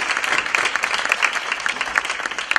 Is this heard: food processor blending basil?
no